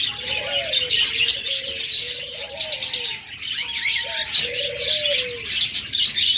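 Caged cockatiels, budgerigars and lovebirds call over one another in a steady, busy chorus of chirps, whistles and short warbling phrases, close and fairly loud throughout with no talking.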